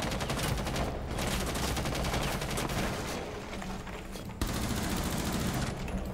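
Continuous rapid gunfire from the Rainbow Six Siege video game, loud and dense throughout with a brief dip and a sharp restart near the end, no voices.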